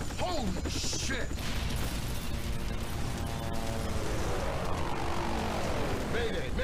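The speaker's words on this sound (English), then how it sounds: "we're crashing our helicopter" Helicopter crash in the video game Splinter Cell Blacklist, a loud continuous rotor and engine roar with mechanical clatter and descending whines, with voices talking over it.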